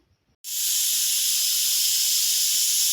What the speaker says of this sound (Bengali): প্রেসার কুকারে ওই বুট সিদ্ধ করতে দিয়েছি, একটু ঘুগনি বানাবো